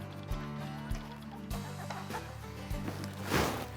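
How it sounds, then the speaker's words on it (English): Backyard chickens cluck in a few soft, separate bursts close by, with light rustling between the calls. "And let's let the chickens out."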